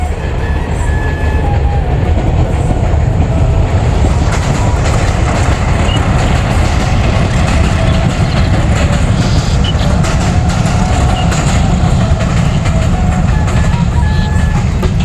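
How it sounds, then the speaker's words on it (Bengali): A train rolls past near a large date palm orchard, giving a loud, continuous rumble with steady rhythmic clatter from the wheels on the rails that lasts the whole time. "এটা হচ্ছে সামনে দিয়ে ঠিক ট্রেন যাচ্ছে"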